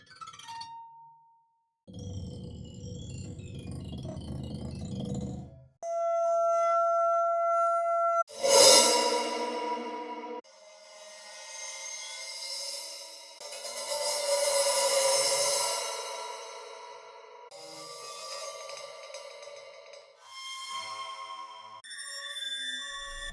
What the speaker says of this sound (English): It's almost got cymbal-like textures, right? Sounds like it could be a bowed cymbal.